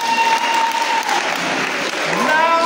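Steady applause from a Sunday school competition audience honoring the winning children, dense clapping sustained throughout at even volume, with some voices mixed in.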